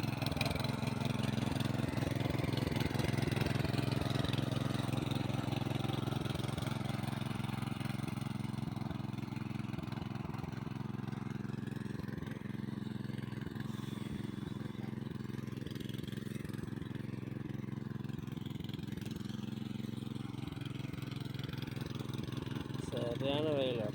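A Kisan Kraft farm machine engine runs steadily at a medium, droning pitch on a hot, sunny field, with someone talking over it throughout.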